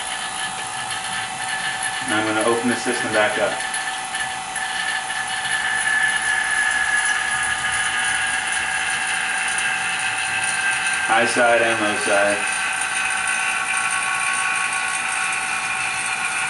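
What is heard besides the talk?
A/C vacuum pump running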